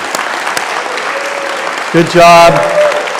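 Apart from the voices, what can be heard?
congregation applause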